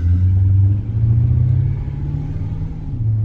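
A Holden VX SS Commodore with a Gen 3 V8 rumbles deeply as it pulls away, a loud, steady low engine drone with slight shifts in pitch and no talking.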